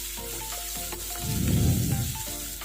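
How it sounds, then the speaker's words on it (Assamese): Onions fry in a pan for a paneer and pointed gourd curry, a close sizzle swelling louder midway amid light clinks of utensils, with no talk. "এতিয়া মই দি দিছোঁ পিঁয়াজখিনি। এইখিনি অকণমান টাইম ভাজি ল'ব লাগিব"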